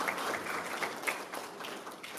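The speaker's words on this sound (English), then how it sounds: "Can you clap for yourselves?" An audience at a cancer foundation fundraising event claps continuously at moderate loudness. The steady crowd applause runs for the whole short stretch with no talk over it.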